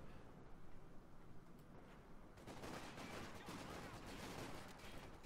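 Battle gunfire in Company of Heroes 2: dense bursts of rifle and machine-gun fire rattle continuously, building louder and thicker after a couple of seconds into sustained volleys with no voices on top.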